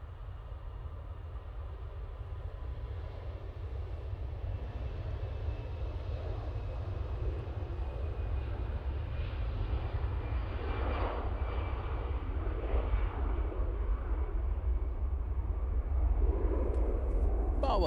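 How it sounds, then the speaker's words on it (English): An EasyJet Airbus A320-200 makes its takeoff roll at Manchester Airport. The engine roar is low and distant but grows steadily louder, with faint voices talking underneath. "EasyJet now on the roll, using their 320-200 for this flight."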